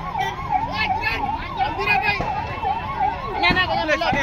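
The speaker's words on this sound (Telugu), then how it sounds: "అంబులెన్స్ వస్తుంది ముందు పదండి" An ambulance siren wails in a rapid up-and-down pattern, fairly close, with people and children talking over it amid a late-night cricket victory celebration crowd at Tank Bund, Hyderabad.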